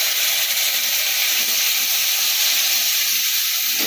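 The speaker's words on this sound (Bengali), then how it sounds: "একটুখানি ভাজবো মশলাটাকে" A turmeric spice paste loosened with water fries in a pan, giving a loud, unbroken sizzling hiss that holds steady from start to finish.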